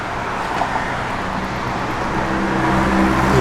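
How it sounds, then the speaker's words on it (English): A 1972 Chevrolet Camaro with an H-pipe Flowmaster exhaust and stainless Z28 tips idles steadily nearby, a low, even rumble that swells slightly toward the end. "H-pipe Flowmaster exhaust system on it with, it's got the stainless Z28 tips."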